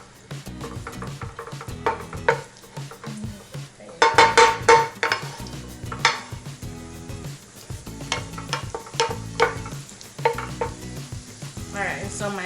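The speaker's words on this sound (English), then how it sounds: "So my garlic is cooking." Garlic sautéing in a very hot pan for a bamboo shoot dish, a steady sizzle under repeated clinks and scrapes of a utensil against the pan, close and fairly loud, with no one speaking.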